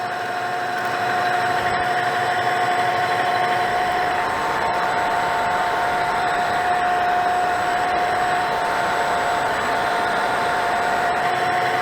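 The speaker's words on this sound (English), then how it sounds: "Going to start roughing down a shoulder down to that diameter that the locking bolt is." Metal lathe roughing down a shoulder on a part for a radial arm saw locking lever, a steady motor hum with a persistent whine and a rougher cutting texture joining after a few seconds, continuous and close.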